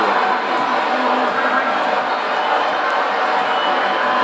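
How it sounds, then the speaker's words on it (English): A basketball crowd at Hilton Coliseum cheers, producing a dense, continuous roar of many voices that holds steady at high loudness across the whole stretch. "And the crowd in Hilton Coliseum is coming alive."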